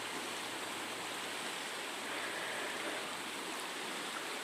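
High river water rushing past, a steady, full-bodied roar of flowing current with no breaks, fairly distant and even in loudness.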